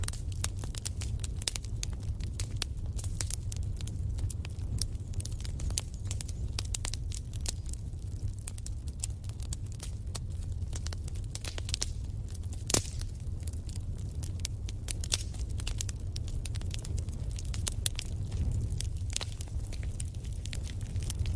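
A fireside setting with a wood fire crackling steadily throughout, dense sharp pops and snaps over a constant low rumble, close and moderately loud with no voices.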